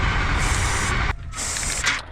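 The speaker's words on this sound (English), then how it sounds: "I've got a yellow stop marker and just going to spray out the bums" A yellow stock marker aerosol sprays onto sheep's rumps in two long, loud hissing bursts separated by a brief pause, close to the listener.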